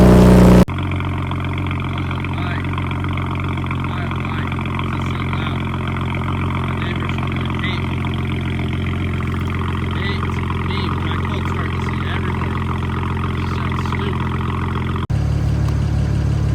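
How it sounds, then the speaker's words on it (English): A BMW engine cold-starts and settles into a steady, droning idle that holds for a long stretch, close and even, before cutting away abruptly. "Let's get a cold start."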